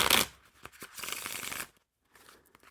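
Rapid papery riffling of Dreyfus Art playing cards by Art of Play, a loud burst followed by a longer shuffle, a brief pause, then a softer patter of cards.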